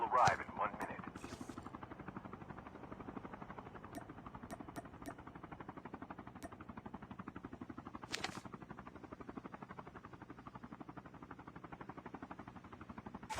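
Aircraft flying in for a supply drop in a video game, a steady pulsing rotor-like drone throughout, with a few brief sharp clicks and bursts over it.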